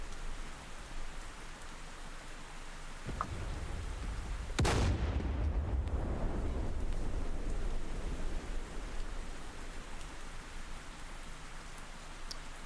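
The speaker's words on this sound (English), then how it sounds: "It's surprising, how many 155mm shells a Chinook can take." 155mm artillery shells striking a Chinook helicopter in a video game: one sharp, heavy blast cracks out over a steady roaring, rain-like wash, followed by a lingering rumble and a fainter earlier thump.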